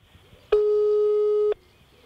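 A single telephone busy tone, a steady electronic beep lasting about one second, starts abruptly and stops cleanly against a quiet background.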